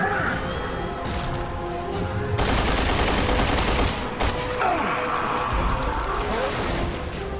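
Dense bursts of rapid gunfire and explosive crackle in Resident Evil Revelations 2, loud and sustained, with a rumbling backdrop typical of game combat sound effects.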